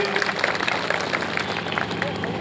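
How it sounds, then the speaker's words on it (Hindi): A crowd at a political gathering in Milkipur claps to welcome the district panchayat chairman: steady, dense clapping that crackles throughout, with a voice carrying over it. "जोरदार ताली बजाकर उनका स्वागत करिए"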